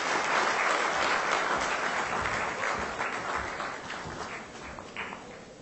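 A large crowd applauds at a corporate awards ceremony in Goa as an honoree takes the stage, sustained broad applause that slowly fades a little toward the end.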